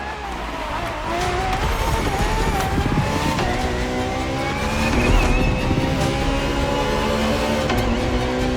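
A Ferrari FXX K race car driven in the racing game The Crew Motorfest, its engine screaming loud and close with rising and falling revs, gear changes and tire squeal throughout.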